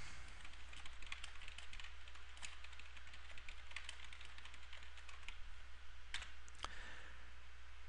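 Steady typing on a computer keyboard while writing a short edit note, a run of quick, fairly faint key clicks over a constant background hum, with no talking.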